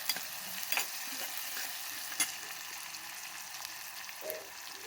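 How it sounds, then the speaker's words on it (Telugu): Onions frying in a pan with ginger garlic paste, a faint steady hiss of oil with occasional light spoon taps and scrapes, quiet and close, no one talking. "కొద్దిగా ఉల్లిపాయలు వేగిన తర్వాత అల్లం వెల్లుల్లి పేస్ట్ వేద్దాం."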